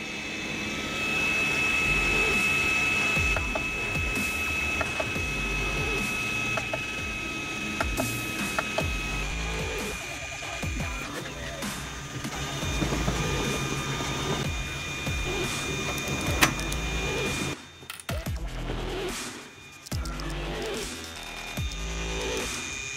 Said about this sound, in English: Turn on our printer.